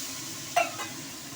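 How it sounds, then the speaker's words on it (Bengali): A pan of Bengali rui fish curry with salt, turmeric, fish masala and a little water being stirred, one sharp scrape and sizzle burst followed by a softer second stroke over a low steady simmer. "এবার একটু নেড়ে চেড়ে নেব।"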